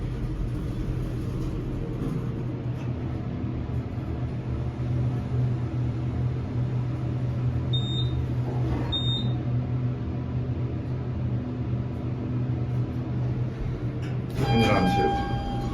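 Schumacher hydraulic elevator at CU Arnett Hall in Boulder, Colorado, running during a ride: a steady low motor and hydraulic rumble throughout, two faint high chimes midway, and a brief clunk with a chime near the end.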